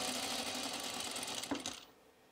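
A home sewing machine stitches a blouse, a quiet rapid mechanical whirr that runs steadily, then gives a couple of brief clunks and stops.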